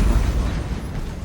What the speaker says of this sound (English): Well, it was a big explosion.